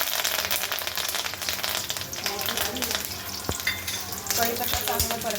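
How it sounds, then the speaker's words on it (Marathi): Cumin seeds and curry leaves crackle and sizzle in hot oil in a pan for a stuffed brinjal masala, a loud, close, continuous frying hiss with sharp pops throughout. "तेल ओतून घेतलं आहे त्यामध्ये आपल्याला जिरं टाकायचं आहे एक टीस्पून जिरं टाकलं त्यामध्ये कढीपत्ता टाकून घ्यायचा"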